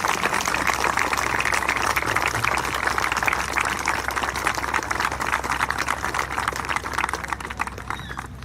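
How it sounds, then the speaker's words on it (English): A crowd at a college baseball game against Holy Family University claps in a steady, moderately distant round of applause that thins slightly toward the end. "Ladies and gentlemen, a round of applause for our hero, Steve Sosa."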